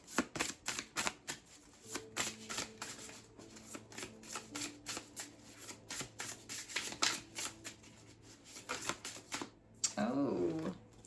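Oracle cards being shuffled by hand, a steady run of crisp riffling flicks that fills most of the stretch, close and fairly quiet, with a brief voice near the end.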